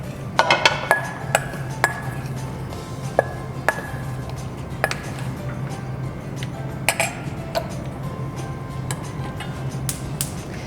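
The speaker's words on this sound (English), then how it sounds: "So I'm just mixing it up, and next we'll get ready to put it in the skillet." Tofu mixed with cornstarch in a bowl: a spoon tapping and clinking against the dish in irregular light knocks, clustered at the start and scattered later over a soft background hum.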